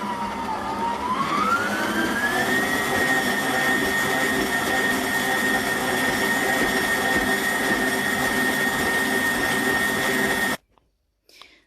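A stand mixer fitted with a dough hook kneads soft bread dough with butter worked in, its motor rising in pitch at the start, then holding a steady, loud whine before cutting off abruptly near the end.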